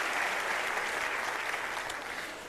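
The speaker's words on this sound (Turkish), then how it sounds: "Kendilerine kıymetli alkışlarınızı gönderiyoruz efendim." Concert hall audience applauding at a municipal band and city orchestra tribute concert, a full sustained clapping that stays strong and tapers slightly toward the end.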